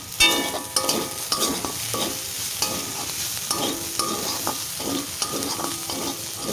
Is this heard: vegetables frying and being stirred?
yes